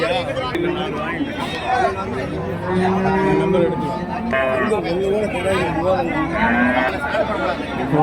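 Cattle and calves moo repeatedly at a busy outdoor cattle market in Karimangalam, Dharmapuri, loud and close, over a steady murmur of crowd chatter and trading talk.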